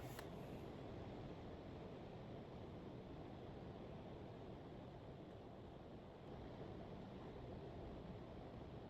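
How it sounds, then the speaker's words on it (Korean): Steady, dense hiss of heavy rainfall fills the background without pause, a broad wash of noise with no voices. "밖에 비가 엄청 많이 오고 있어요."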